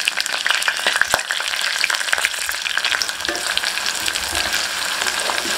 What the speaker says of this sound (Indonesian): Bawang merah, bawang putih, jahe, kunyit kita tumis